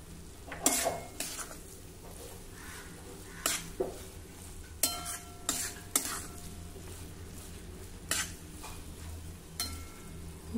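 Coriander leaves stirred into ridge gourd frying in a pan, with a spoon scraping and clinking against the metal in several separate bursts over a soft, steady sizzle.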